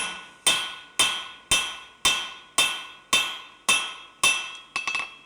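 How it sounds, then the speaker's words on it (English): A blacksmith's hammer strikes hot metal on an anvil while forging a section: nine sharp, ringing blows in a steady rhythm about half a second apart, each decaying quickly, with the last one doubling. "I'm hammering in the same place every time"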